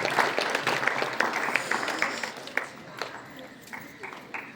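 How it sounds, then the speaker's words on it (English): An audience applauds an honoured student at an academic prize ceremony, a burst of scattered hand claps that starts strong and thins out, with a few sharper individual claps near the end. "Give her a big round of applause"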